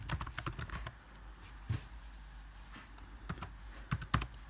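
Rapid clattering keystrokes on a computer keyboard come in quick bursts with short pauses, close and clear, with no voices.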